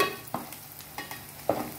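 Spice masala for Guntur-style prawn curry fries in a shallow pan, a soft steady sizzle with a few distinct scraping stirs at intervals, close and fairly quiet, no voices.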